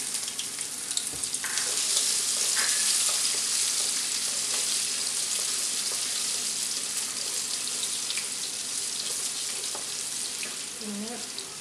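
Ginger fries in sesame oil in a pan for a mussel pickle, a continuous bright sizzle close up with occasional soft stirring clicks and no talking.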